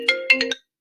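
A mobile phone ringtone goes off in a short melodic burst of four bright electronic notes over a steady tone, loud and close, then cuts to silence.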